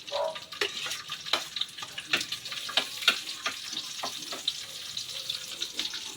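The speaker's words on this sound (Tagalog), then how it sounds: "gisa muna natin tong mga ricado natin guys" Ginger, onion, garlic and tomato sauté in a pan with a continuous sizzle, broken up by frequent scraping and tapping strokes of a stirring utensil, close and fairly busy, with no talking.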